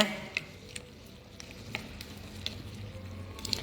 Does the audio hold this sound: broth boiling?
yes